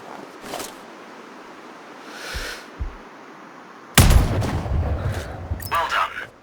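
A sniper rifle in Sniper Ghost Warrior Contracts fires one loud, sharp shot at a target on a proving ground, with a booming report and a lingering tail, after quieter ambient game sounds.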